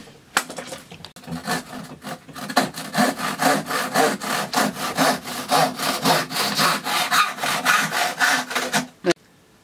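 A hard point hand saw cuts through timber for a garden trellis, steady rhythmic back-and-forth strokes, close and loud, with a few sharp knocks at the start and end.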